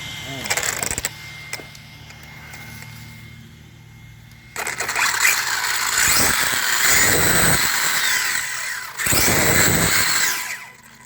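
A small electric motor in a Redcat Shredder RC car, just fitted with a new center differential, whirs and revs in bursts, high-pitched and close, rising and falling between short pauses, with a voice talking briefly over it.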